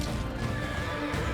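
A horse neighs in a short, loud, dense whinny set against a medieval battle scene, with no talking.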